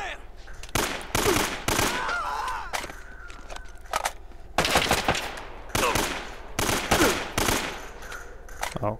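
Gunfire in Uncharted: Drake's Fortune, repeated loud bursts of rapid shots in clusters, with pauses between them, mixed with a voice talking over the firefight.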